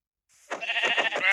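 Minecraft sheep bleat in a quick series of wavering, nasal cries, close and fairly loud, with no speech.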